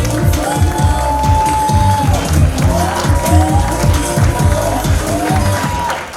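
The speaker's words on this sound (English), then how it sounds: "Make some noise for Sean Rose" A live comedy show audience cheers and applauds loudly and steadily as the next act is introduced, a dense continuous crowd roar with claps throughout.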